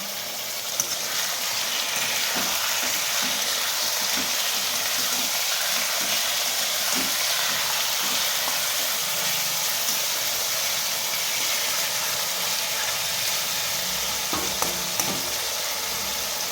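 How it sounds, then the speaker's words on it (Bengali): Marinated chicken frying in a pan over ginger and garlic for chicken tahiri gives a loud, steady, close sizzle that hisses continuously, with a few faint clinks and no talking. "এখানে আদা রসুনটা ভাজা হয়ে গেছে, এবার আমি দিয়ে দেবো ম্যারিনেট করা চিকেনটা"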